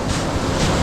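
Sea waves wash in with a broad, rushing roar, two soft surges rising and falling within a brief, continuous burst of surf and wind noise close to the microphone.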